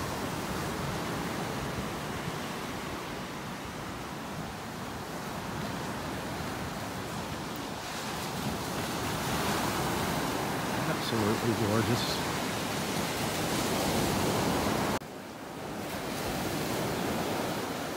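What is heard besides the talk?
ocean waves on a beach in North Naples, Florida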